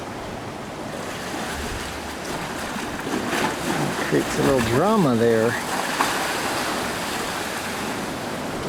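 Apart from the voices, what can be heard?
ocean waves splashing into sea arches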